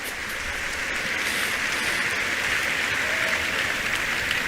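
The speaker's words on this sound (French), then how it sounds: "Acclamez fort le Seigneur." A church congregation applauding and cheering, a dense, steady roar of clapping from a large crowd that holds constant throughout.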